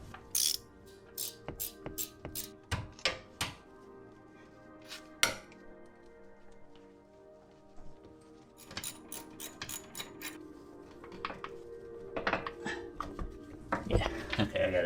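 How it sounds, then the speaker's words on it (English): A ratcheting wrench on a Volvo XC90 2.5T engine mount bolt, close bursts of sharp metallic clicks and clinks in irregular runs, with speech in between. "A ratcheting wrench."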